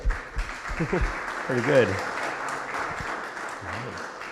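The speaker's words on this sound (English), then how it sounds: "round of applause" An audience gives a round of applause during a talk on basic legal principles, a steady wash of clapping running under a voice for the whole stretch.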